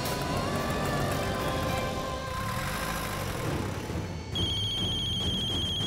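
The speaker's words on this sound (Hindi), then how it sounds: "मार्कस का फोन आ रहा है।" A telephone rings with repeated electronic trills, fairly loud, over a low engine hum, with a sharper higher tone near the end.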